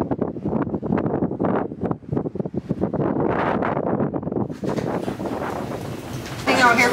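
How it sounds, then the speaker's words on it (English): Strong wind buffets the microphone on the open deck of the cruise ship Koningsdam in cold glacier country, a steady broadband rush that swells louder toward the end while people talk throughout. "This wind is something."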